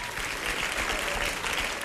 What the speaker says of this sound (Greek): Ένα χειροκρότημα για τον Κωστάκη!